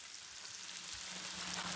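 Fish frying in a pan for a Tamil home-cooked Sunday meal. Steady, close crackling sizzle of hot oil runs throughout the short stretch, soft and even with no voices.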